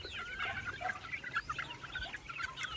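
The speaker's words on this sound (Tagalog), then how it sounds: "simpleng manukan" Chickens cluck and chatter at a simple chicken farm, several birds close by in a busy, overlapping flock sound.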